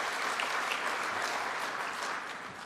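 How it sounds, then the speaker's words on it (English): A large outdoor audience claps warmly for the banner bearers at a new tech campus ribbon-cutting ceremony, a steady, even wash of applause that eases slightly toward the end. "Let us give a very warm round of applause to the banner carriers, the banner bearers."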